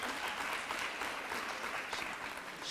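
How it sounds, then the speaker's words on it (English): Graduation audience applauding steadily at a school ceremony, a dense, even wash of clapping from a large crowd held throughout, fairly distant and without voices over it. "Let me please give her a round of applause."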